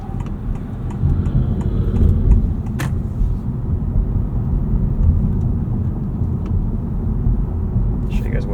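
A 2025 Honda Civic Hybrid sedan accelerates hard off the line, a steady engine and road rumble heard from inside the cabin, moderately loud and continuous without talk.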